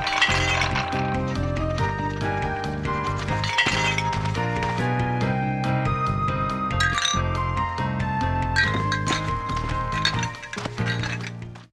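Glass bottles clink and knock together steadily while being cleaned and sorted for a village waste-management effort, a dense run of bright chinks lasting the whole stretch with no talk.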